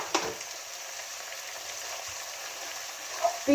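Grated coconut fries in coconut oil for a Kerala-style prawn theeyal, giving a steady, close frying hiss with a couple of sharper stirring knocks at the start and end.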